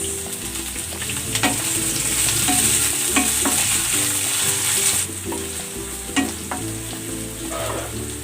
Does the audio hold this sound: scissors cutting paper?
no